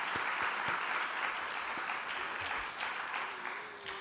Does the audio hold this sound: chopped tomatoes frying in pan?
no